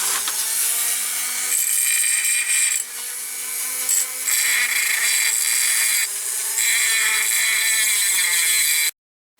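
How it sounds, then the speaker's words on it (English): Dremel rotary tool grinding out part of a diecast Dinky Supertoys Coles crane during restoration, a steady high-pitched whine lasting about nine seconds with small shifts in pitch and load, then stopping abruptly. "I'll grind this out with a Dremel."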